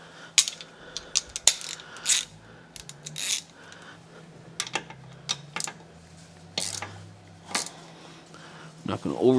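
A ratchet wrench clicks in short, uneven bursts as it snugs the lower unit drain plug and washer on a Mercury 90hp outboard, close up and mostly alone.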